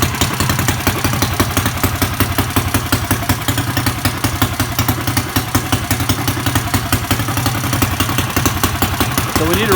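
A mini bike engine built for a 24-hour endurance run idles steadily nearby, a continuous low rhythmic chug with some clatter, loud and alone throughout.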